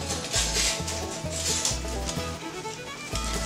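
Barbecue sauce from a foil packet is strained into a pan, giving a soft wet rustle and scraping with a steady series of low knocks as the strainer and packet are handled, fairly quiet.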